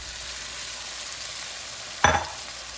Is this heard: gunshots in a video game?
no